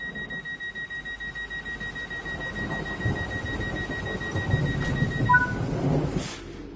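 A passenger train in Train Sim World 5 rolls along steadily, a low rumble and rhythmic clatter building up under a pair of sustained cab warning tones, with a short squeal near the end.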